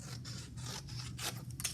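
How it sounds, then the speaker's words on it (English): Scissors cut paper shapes for a polar bear craft, giving a quick run of close, crisp snips and rustling with short pauses between the cuts. "Then I'm going to take my scissors and cut it out."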